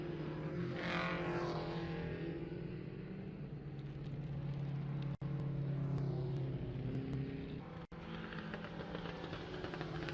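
Race car engine droning steadily at Alaska Raceway Park during a Baby Grand feature, a continuous loud motor note with shifting pitch and two brief cutouts, no talk.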